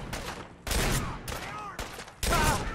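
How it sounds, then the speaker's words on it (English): Gunfire in Fallout 4, several loud shots or bursts in quick succession with short gaps between, echoing, alone without speech. "Oh, they're shooting him!"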